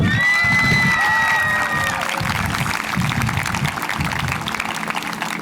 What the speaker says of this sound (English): So another round of applause for our valedictorian, our two salutatorians.